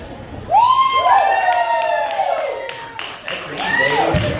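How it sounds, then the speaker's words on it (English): Audience at a traveling magician's show at Sugarlands Distilling Company clapping and cheering after a trick, a loud burst of applause with whoops and shouts that carries on steadily. "when you do, they'll applaud you, Dave."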